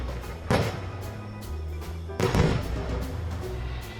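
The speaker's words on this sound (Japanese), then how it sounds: "その夜、外から花火の音が聞こえた。" Two deep booming fireworks bursts sound outside, each a sharp thump followed by a rolling rumble and fading crackle, spaced a couple of seconds apart over a low hum.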